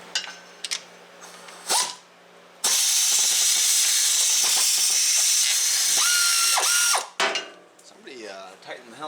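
A ratchet works on the starter bolts of a 2017 Ford Expedition, with a long loud continuous whirring-hiss burst in the middle framed by brief clicks and short mechanical bursts, close up.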